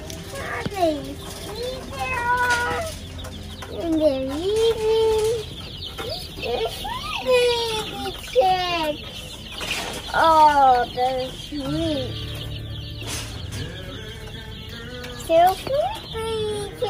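Baby turkey poults in a farm store brooder, high chirping peeps repeating in scattered clusters, close and clear, with voices of an adult and someone talking over them.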